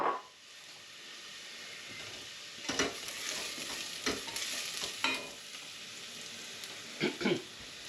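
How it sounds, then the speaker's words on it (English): Onions sizzle steadily in hot oil, with occasional scraping stirs of a utensil breaking through the constant frying hiss. "add in our chopped onions and get those frying"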